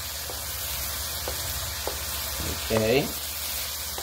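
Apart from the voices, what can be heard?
garlic sizzling as it fries for beef fried rice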